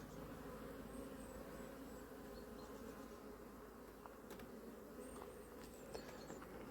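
Honeybees flying around hives at an apiary in Ireland on a warm day, a steady low buzzing swarm drone with no one talking.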